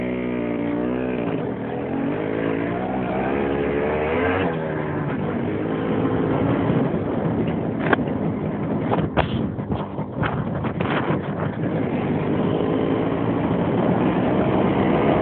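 An MZ 150 motorcycle engine runs steadily and loudly close by, with an uneven, choppy stretch of throttle blips partway through before it settles again; no talking.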